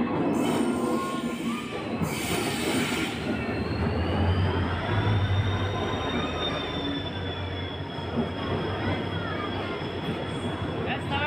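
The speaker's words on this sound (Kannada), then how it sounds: "ಪ್ಲ್ಯಾಟ್ಫಾರಮ್ 2ಕ್ಕೆ ಒಂದು ಟ್ರೈನ್ ಬರ್ತಿದೆ. ಯಾವ್ದು ಗೊತ್ತಾ? ಯಶವಂತಪುರ ಟು ವಾಸ್ಕೋ ಡಿ ಗಾಮ ಹೋಗೋ ಟ್ರೈನು." A Yesvantpur to Vasco da Gama train pulls in at platform 2 of a station, its wheels squealing loudly and steadily over a heavy rolling rumble, close by and continuous throughout.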